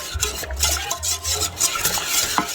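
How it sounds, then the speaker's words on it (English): Semolina baby food being stirred in a pot, soft scraping strokes of a spoon against the pot bottom repeating in quick rhythm, close and alone. "I'm just stirring it up"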